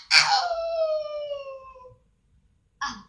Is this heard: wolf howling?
yes